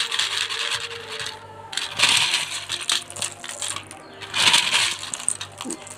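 Dry, crisp rattling and clattering of brittle sun-dried rice papads being shuffled, with several bursts of crackling against a low background hum.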